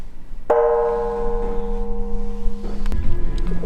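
A bell at Moobong Mountain, Pyeongtaek, strikes once and rings out with a long sustained tone, then a second clang follows near the end over low background construction noise.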